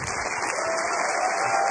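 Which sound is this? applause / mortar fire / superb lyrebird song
applause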